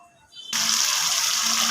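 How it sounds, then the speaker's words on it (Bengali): Water pours steadily into a cooking pan of prawns being braised with taro, a loud continuous gushing rush that starts abruptly and runs to the end, close and alone. "কষানোর জন্য পানি দিয়ে দিলাম"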